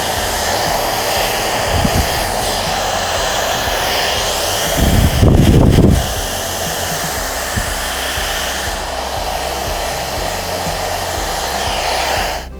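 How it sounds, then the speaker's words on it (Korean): A hair dryer blows steadily and loudly up close throughout, with a brief rumbling burst partway through as the airflow shifts. "드라이기 열 바람 주고 나서 살짝만 구겨주면"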